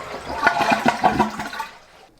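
A toilet flushes to drain its tank before a bidet is installed, giving a near, gurgling rush of water that swells quickly, churns for about a second and then fades as the tank empties.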